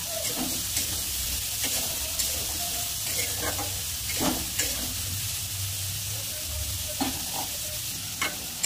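Potatoes and soybean chunks fry in a pan with a steady close sizzle, broken by irregular scraping and clicking as a spatula stirs them.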